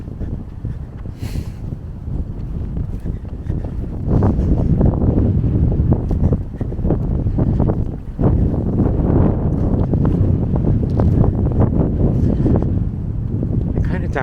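Gusty wind buffets the microphone along a former railroad path in Van Cortlandt Park in the Bronx, a rumbling roar that swells and drops in waves, loud and close throughout.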